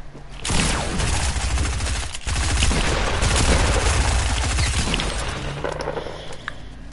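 Sustained SMG fire spammed in a shooter video game, rapid continuous shots with breaking and shattering sounds, loud and close, nearly six seconds with a brief gap.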